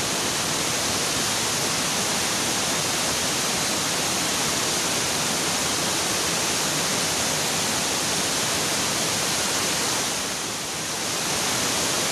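Curug Kembar Cinyenang twin waterfall in Malasari, Bogor, roars as a loud, constant rush of falling water, unbroken and close for the whole stretch.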